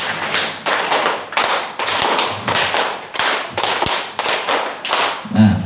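Hands clap in a steady rhythmic pattern, bursts of quick claps grouped with short pauses, loud and close throughout.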